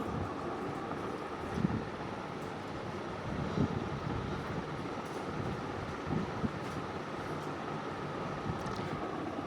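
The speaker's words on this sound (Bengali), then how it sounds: "এই ট্রেনটা হায়দ্রাবাদ থেকে কলকাতায় আসছে।" A train running from Hyderabad to Kolkata, heard from on board as a steady broad rumble with wind noise, a few faint rattling knocks standing out now and then, no talk.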